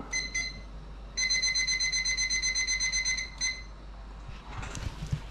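A kitchen timer is set while crabs steam: a few short electronic beeps, then a longer run of rapid, evenly pulsed high beeps, followed by faint kitchen clatter.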